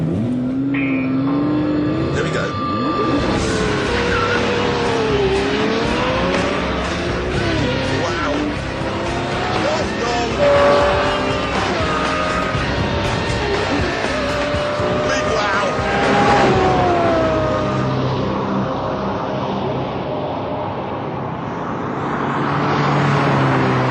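A Lamborghini Murcielago LP 640 engine roars and revs hard under full-throttle launch-control acceleration, its pitch climbing and shifting through gears, with someone talking over the noise.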